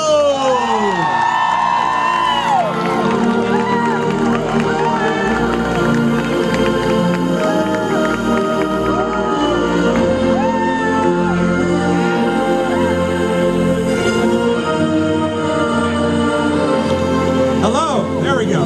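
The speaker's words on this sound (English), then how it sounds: "Ladies and gentlemen, big round of applause, Colin" A large audience applauds and cheers with whoops and shouts for film director Colin Trevorrow at a Jurassic Park 25th anniversary celebrity panel, a dense, steady wall of crowd noise lasting throughout.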